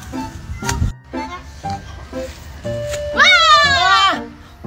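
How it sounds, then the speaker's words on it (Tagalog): A cat meows with a drawn-out, wavering cry near the end, preceded by scattered thumps and light background sounds, with people speaking nearby. "Hindi naman to kabayo. Pusa naman to."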